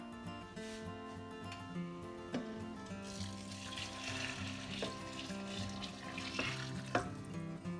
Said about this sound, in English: Next, we're going to pour in our chicken stock.